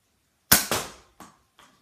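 A toy Nerf gun is cocked and fired at a target. Two sharp plastic clacks sound close together, then two fainter knocks follow in near silence.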